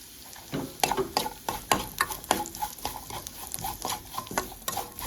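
Poppy seeds and a ground filling roasting in a pan, with repeated scraping and stirring strokes over a soft, steady sizzle, close and moderately loud, no talking.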